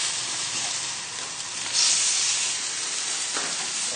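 Cod fillet frying skin side down in a hot pan, a steady close sizzle and hiss throughout, swelling briefly louder partway through.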